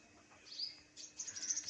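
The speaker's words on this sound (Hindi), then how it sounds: "ये छोटे तोते हैं" Small parrots in a cage chirping, a quiet burst of high tweets in two short clusters over about two seconds, with no talking.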